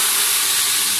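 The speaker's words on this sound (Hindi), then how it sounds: "सिर्फ लहसुन और अदरक का तड़का है जो तैयार है माशाल्लाह से, और हम इसमें अब तड़का लगा देंगे।" Garlic and ginger tadka hits a pot of chana dal and sizzles, giving a dense, loud, continuous hissing spatter up close throughout.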